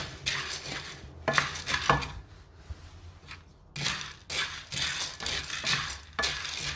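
Soya beans and gari being stirred in a hot pot while roasting, giving scraping and clattering bursts of a utensil against the pot in irregular bouts with short pauses, close and fairly loud.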